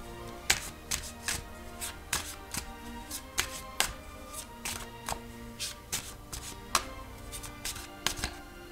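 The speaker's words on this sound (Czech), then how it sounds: "vytáhnu kartu" Tarot cards being drawn and handled from a deck, a series of soft, crisp card snaps and slides at an irregular rhythm, close and quiet with no talking.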